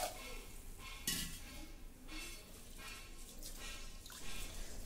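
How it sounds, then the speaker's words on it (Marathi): Basmati rice washed with water in a pressure cooker pot: soft, close swishing and sloshing with a few light clinks, repeated in quiet waves. "तांदूळ पाण्याने स्वच्छ धुवून घेऊया"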